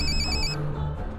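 A telephone ringing on an outgoing call, a steady electronic ring tone heard close and clear, cutting off partway through the short moment.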